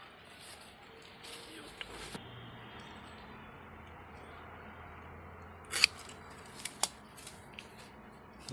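Scissors snipping through the stem of a Philodendron Jose Buono plant, giving several sharp close crisp cuts in quick succession over faint background noise.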